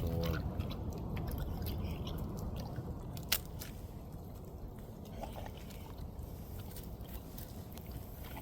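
A five-month-old Cane Corso puppy laps water at a track, soft wet slurping and squishy mouth sounds in an uneven rhythm, quiet and close, with faint outdoor background.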